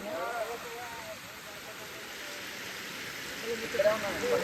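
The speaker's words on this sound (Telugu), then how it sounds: "ఏ వర్షం చూసినా ఎట్లా పడుతుందో." Rain falls at a campsite in the Ananthagiri Hills, Vikarabad, a soft, even hiss that runs throughout at low level, with voices talking at the start and end.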